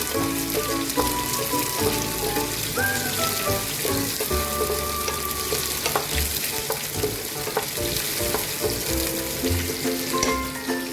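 Garlic frying in a pan until light brown, with chillies added, for a Konkani red-stalk leafy vegetable dish: a steady, close sizzle with stirring scrapes over faint tonal background music.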